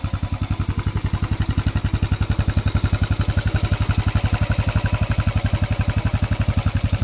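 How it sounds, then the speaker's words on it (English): A Royal Enfield Classic 500 EFI pushrod single runs steadily close by, its fast even exhaust beat thudding under a busy metallic valve clatter, with no voices. "Typical pushrod single, has all the valve clatter."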